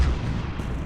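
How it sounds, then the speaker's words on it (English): A cannon firing in a voxel siege video game, one deep, loud booming blast that rumbles out and fades over a second, with no voices. "Both cannons and the TNT's explosion now can be heard from the other side of the map."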